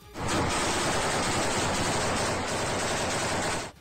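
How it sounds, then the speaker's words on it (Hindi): Sustained heavy automatic gunfire from fighters firing inside a room, a dense, loud, continuous roar of overlapping shots with no pauses for nearly four seconds. "कादिरव के कई लड़ाके एक कमरे में खड़े होकर जोरदार फायरिंग करते नजर आए"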